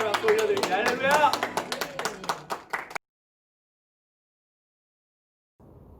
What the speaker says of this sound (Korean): 주님께 영광의 박수 올려드립니다